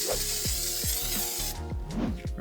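Spray glue adhesive hisses from a can onto leather in a steady close blast for about a second and a half, with rhythmic thumps and scrapes of handling underneath, then stops.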